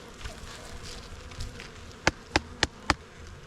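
Honeybees buzz faintly around an overwintered hive, a soft continuous hum, broken near the end by four sharp evenly spaced knocks close by.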